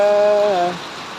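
Heavy rain makes a steady, dense hiss throughout, with a brief tonal hum laid over it at the start before fading.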